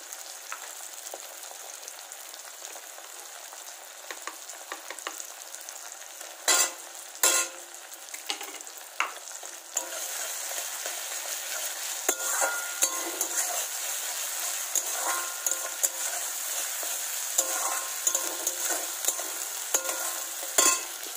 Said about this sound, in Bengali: এটা ভাজা ভাজা হয়ে গেলে আমি এর মধ্যে আদা রসুন পেস্ট দিয়ে দেবো